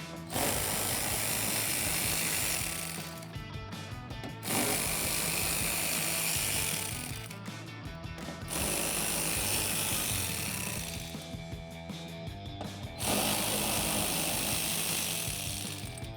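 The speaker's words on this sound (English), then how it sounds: "I'm going to use that same 10mm socket and remove all 5 of those" A hand ratchet fitted with a 10mm socket removes fender flare bolts on a 2016-2021 Toyota Tacoma, clicking in fast repeated bursts separated by brief pauses, close and clear.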